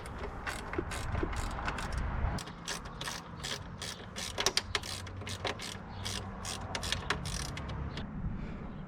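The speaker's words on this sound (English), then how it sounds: "When you fasten these bolts, it's easier if you start from the bottom." Hand tools tighten the bolts on a motorcycle luggage bracket for Lone Rider Moto Bags fitted to a Honda Africa Twin, giving a close, rapid series of ratchet clicks in bursts over a low background hum, with no talking.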